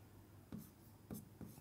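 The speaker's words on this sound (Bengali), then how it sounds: "একটু দূরে লিখি" A pen scratches across paper in three short, quiet strokes separated by brief pauses, close and soft, with no voices over it.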